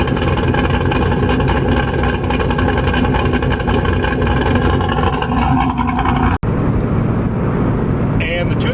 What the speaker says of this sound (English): Sounds really good at idle. We'll play an idle clip here.